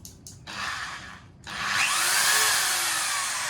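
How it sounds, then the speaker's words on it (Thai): A 710-watt electric drill powered by a 1600 W pure sine wave inverter whirs in a short burst, stops briefly, then runs again steadily and loudly with a high, whining motor tone. "สว่านตัวนี้กำลังไฟเจ็ดร้อยเจ็ดร้อยสิบวัตต์"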